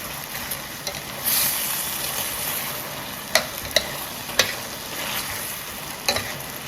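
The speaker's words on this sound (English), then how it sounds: "And then we just saute these up all together like this." Vegetables sauté together in a pan with a steady close sizzle, broken by a few sharp clicks and taps from a stirring utensil, with no voices.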